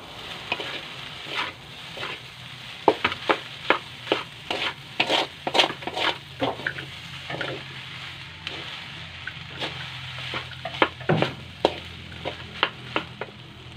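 A home breakfast fry in a pan sizzles throughout while a utensil stirs and scrapes it in sharp, irregular clacks, loud and close, with no voices.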